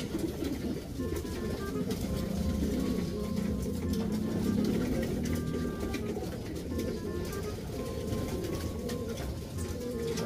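Racing pigeons coo in a low, continuous murmur that runs steadily throughout, with faint chirps and some background rustling and no talk.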